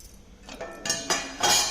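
A spoon clinks and scrapes against a glass while amla (gooseberry) juice with lemon and salt is stirred, a few light taps building to a louder rattle near the end.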